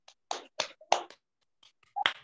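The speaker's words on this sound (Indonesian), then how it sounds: "3 kali tepuk tangan" A class gives three sharp hand claps in quick succession, each a distinct broadband burst, followed by a couple more scattered claps near the end, close and clear with no talking.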